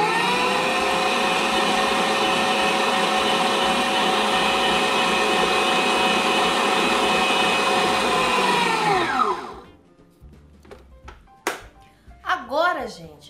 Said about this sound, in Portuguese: E agora eu vou bater para misturar aqui esse chocolate